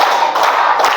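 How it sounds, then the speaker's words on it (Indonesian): A classroom of students claps together in a short burst of a few sharp beats, loud and close, with no talk. "Coba tepuk 4 semuanya."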